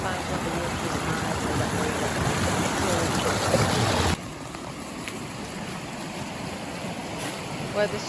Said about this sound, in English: Back across the stream again.